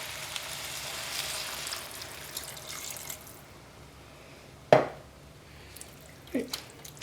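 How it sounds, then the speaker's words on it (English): A couple of cups of water poured into a hot cooking pot of floured cottage pie filling, a steady close wash of water for several seconds, then a sharp splash and softer trickles. "I want to put a couple of cups of water in here"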